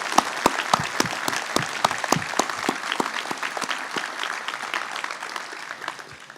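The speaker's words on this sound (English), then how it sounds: "join me in giving them another big round of applause" Steady applause from a commencement audience in Philadelphia, with many clapping hands forming a dense, even patter that tapers slightly toward the end.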